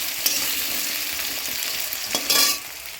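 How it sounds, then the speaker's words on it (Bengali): Mixed vegetables fry in a hot pan while being stirred, a steady close sizzle broken by scraping strokes of the spoon, with a brighter burst of crackling near the end. "হালকা নাড়াচাড়া করে একটু ভেজে নেব"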